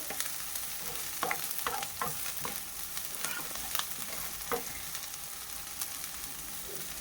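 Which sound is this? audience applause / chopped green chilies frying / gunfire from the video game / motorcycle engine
chopped green chilies frying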